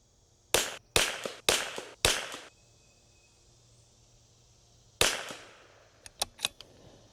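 A .22 LR rifle fires hand-loaded rounds outdoors, starting from a cold bore: four sharp, evenly spaced cracks, a pause, a fifth crack, then a few faint clicks.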